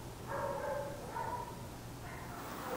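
A senior dog around nine years old at an animal rescue gives a few drawn-out whimpering barks, moderately close, over a steady background hum.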